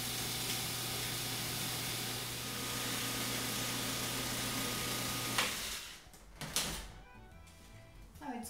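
A blender whirs steadily, loud and continuous, churning a no-bake lemon tart filling with coconut oil for about five seconds before cutting off, followed by a few clunks and handling noises.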